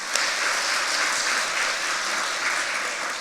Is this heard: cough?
no